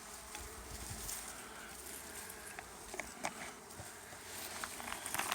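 Honey bees buzzing around an active hive outdoors in summer, a steady faint swarm drone with brief individual insect passes rising and fading close by.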